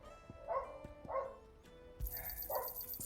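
Dogs barking in the video game Final Fantasy 16, four clear barks in an even rhythm at moderate distance, with faint game sounds and clicks underneath.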